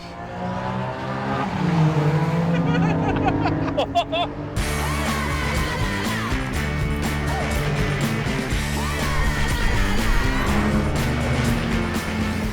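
A Porsche 718 sports car engine roars and revs continuously on a racetrack in Scotland, with a brief tire squeal early on, loud and close, steady high-pitched engine drone throughout.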